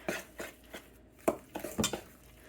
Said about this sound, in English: But you're just gonna mix all of this together